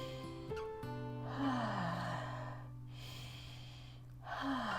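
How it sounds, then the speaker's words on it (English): A person breathes in and out heavily, a few deep, audible breaths with rushing air between brief pauses, close and alone with a steady tone underneath. "you start breathing in and out like"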